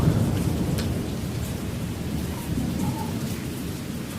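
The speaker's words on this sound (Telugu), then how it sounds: "ఈ వర్షాలు కూడా ఇప్పుడప్పుట్లో తగ్గేలా లేవు" Heavy rain pours steadily with low rumbling thunder during flooding around Vijayawada, a dense, continuous wash of sound with no voices.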